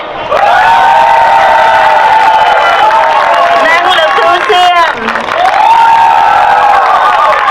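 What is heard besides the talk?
audience applauding and cheering at Khmer New Year festival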